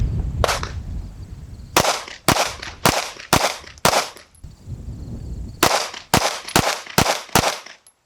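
Ten gunshots from a Wilson Combat P320 pistol at a shooting range, fired as two quick strings of five with a pause between them. Each report is a loud, sharp crack that rings out and decays.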